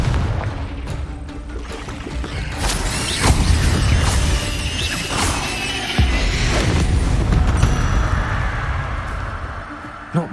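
A Confringo blasting spell goes off in a video game, hurled at a deadly great spider: loud crashing explosive bursts with booming low rumble, repeated across the stretch over a busy game soundscape.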